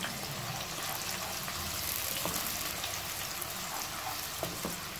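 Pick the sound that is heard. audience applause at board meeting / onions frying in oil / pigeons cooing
onions frying in oil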